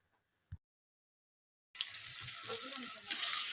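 Sliced onions dropped into hot oil for mutton kulambu burst into a loud, steady sizzle after a short silence and a single knock, the frying hiss continuing and swelling slightly near the end.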